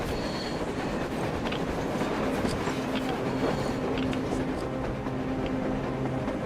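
A train rumbles past in the video game Metro Exodus, its wheels clacking and faintly squealing in a steady, fairly close roll while voices talk over it.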